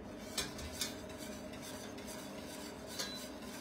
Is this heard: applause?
no